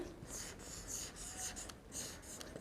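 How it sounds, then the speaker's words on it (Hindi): Chalk or marker writes on a board during a maths lesson: soft, close scratchy strokes in short irregular bursts, quiet and without speech. "ओके, सबसे पहले यहाँ पर हम लिखेंगे एल्टीट्यूड"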